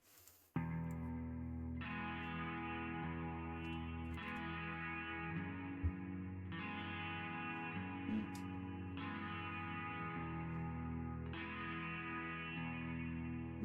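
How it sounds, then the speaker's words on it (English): Distorted, effects-laden electric guitars in a song ring out in long sustained chords, with a fresh strum every couple of seconds and a thick wash of chorus and reverb, loud and alone. "Guitars are really nice tones."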